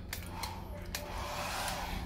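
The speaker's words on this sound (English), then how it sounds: "sorry for the interlude of the hairdryer saga, but now you know how to use it" Hair dryer running in a cruise ship cabin on the Marella Discovery, a steady airy whoosh with brief sharper bursts, continuous and moderately close throughout.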